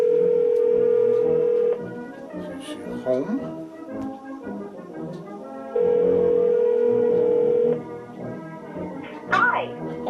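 A telephone ring-back tone sounds on a call placed from a phone, two long steady buzzes several seconds apart with someone speaking in the gaps between them.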